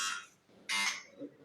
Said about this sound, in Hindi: पहले जरा बजर चेक कर लेते हैं, बजर दबाइए।